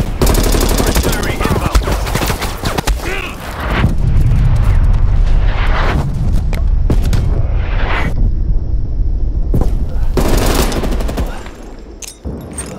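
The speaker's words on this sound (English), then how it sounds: "Artillery targeting okay." Artillery strike in Call of Duty Cold War, with loud, close bursts of explosions and rapid gunfire crackling in waves, separated by brief lulls.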